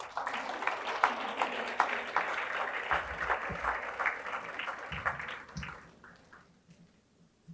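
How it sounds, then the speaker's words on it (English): At an annual day event, an audience claps in a steady, moderate wash of applause that fades away toward the end, leaving near quiet. "Please clap for this sentence."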